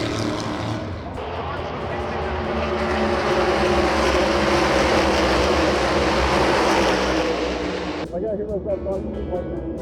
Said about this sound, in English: Engine noise is a completely different beast than any noise a human can make